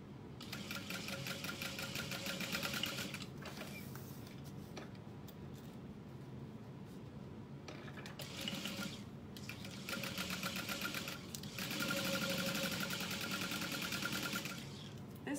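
A sewing machine stitching a custom-order bag runs in steady, rapid stitching bursts with brief pauses between runs, a close, even mechanical chatter with no talk.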